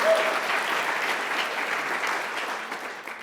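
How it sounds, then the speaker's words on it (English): Applause from a gala audience for a speaker, a steady wash of many hands clapping that holds for a few seconds and then begins to fade. "Give him a round of applause."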